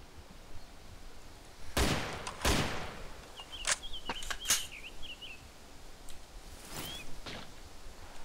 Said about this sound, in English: Is that you firing?